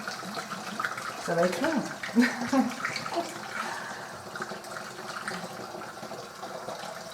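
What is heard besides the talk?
pouring water into a container for acacia flower wine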